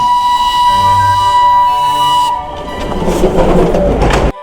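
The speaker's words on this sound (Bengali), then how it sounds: "আর এই হচ্ছে most iconic the steam engine." The Darjeeling Himalayan Railway toy train's steam engine gives a sustained tonal whistle, then it gives way to a rougher rumbling chug with hissing and rattling close by.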